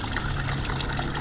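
Liquid kadhi for a kadhi pakora dish is poured through a kitchen sieve, making a steady, continuous watery pouring and trickling sound up close with no talking.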